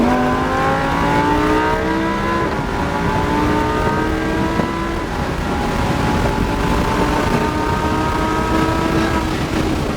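A car accelerates hard on a race track, the engine note climbing in steady rising sweeps through repeated gear changes, loud and close throughout with no talk over it.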